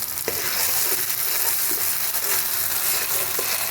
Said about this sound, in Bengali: পেঁয়াজটা লাল লাল করে ভাজা হয়ে গেছে, এখন আমি পোস্ত বাটাটা দিয়ে দেবো।